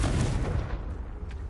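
A Confringo fire spell bursts in the Hogwarts Legacy game, a loud, heavy blast that booms at the start and then rumbles on in a long, dense roar.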